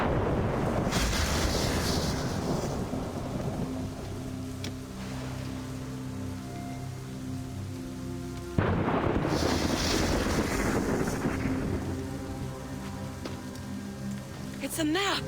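Storm in the video game Assassin's Creed Rogue: a dense, steady roar of wind and rain pours over a ship at sea, with a brief lull midway before the downpour surges back, while someone talks over it.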